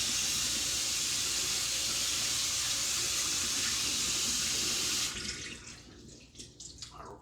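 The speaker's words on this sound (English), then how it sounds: "rinse out the noodles" Tap water runs steadily into a kitchen sink as Pad Thai noodles are rinsed, a loud broadband hiss that cuts off sharply about five seconds in, leaving quieter drips and faint clatter.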